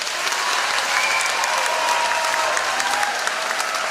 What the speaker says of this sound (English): Let's give a big round of applause and a big welcome to